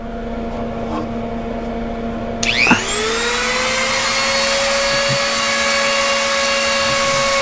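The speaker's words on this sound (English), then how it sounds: "Back to the Dremel." A Dremel rotary tool used for wood carving switches on abruptly after a quiet stretch, spinning up within a moment into a loud, steady, high-pitched whine that holds close and constant to the end.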